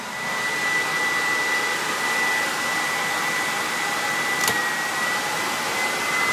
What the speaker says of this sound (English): we want that blower to run for a set amount of time after the burner has shut down